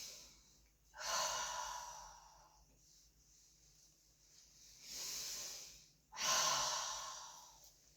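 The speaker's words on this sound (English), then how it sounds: "Okay, take a deep breath." A patient takes slow, deep breaths during a head-to-toe medical examination, two loud airy inhalations each followed by a softer exhale, close and alone.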